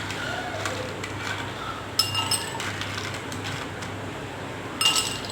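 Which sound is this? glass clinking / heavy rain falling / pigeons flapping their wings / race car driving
glass clinking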